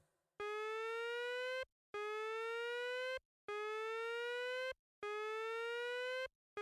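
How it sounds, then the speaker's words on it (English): An emergency alarm siren system sounds in a test, four identical rising electronic wails in a regular on-off pattern with short gaps of silence between them. "Please familiarize yourself with Star Park's siren system."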